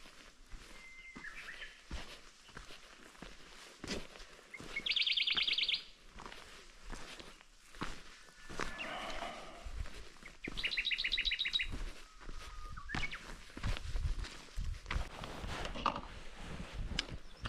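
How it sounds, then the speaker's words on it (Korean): Songbirds sing and chirp in a mountain forest on Deogyusan in May, with several distinct trilling bursts and scattered calls over a quiet, steady background; no one talks. "새소리."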